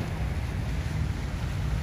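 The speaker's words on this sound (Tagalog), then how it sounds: "Pag may dumaan kasi na barko, malaking barko, ayan, so lumalakas ang hampas ng alon bigla." Heavy, steady wash of waves and wind rumbling at the Manila Bay shoreline by Dolomite Beach, surging harder as a large ship passes offshore, loud and continuous with no voices.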